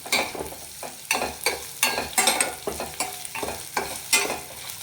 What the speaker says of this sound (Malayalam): ആ മണം മാറുന്നത് വരെ നന്നായിട്ട് നമുക്കൊന്ന് വഴറ്റി കൊടുക്കാം